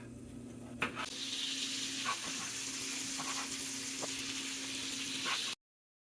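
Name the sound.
meat sauteing in a pan for jambalaya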